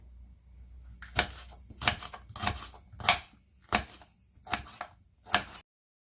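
Peppers are cut with a knife on a board in seven sharp chops at an irregular pace, close and clear, with quiet pauses between strokes.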